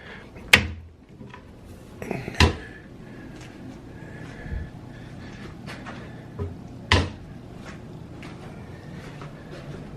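Drawers in a room with plenty of storage slide open and shut several times, giving close, sharp thuds and clacks with short rattles between them, spread across the recording.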